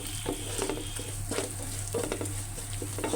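Ground spice paste of garlic, coriander and dried chilli is stirred into bhuna khichuri in a hot pan, with soft scraping strokes repeating every half second or so over a steady sizzle and a low hum.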